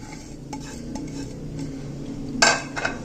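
Chopped cabbage and green chili being stirred into ground chicken in a bowl, soft mixing squelches with light utensil clinks and a louder clatter near the end, no voices.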